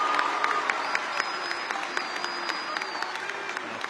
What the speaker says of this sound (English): Mr. Morley, just give him a round of applause for his work.